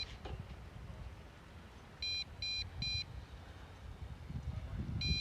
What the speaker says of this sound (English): I know this beeping is getting annoying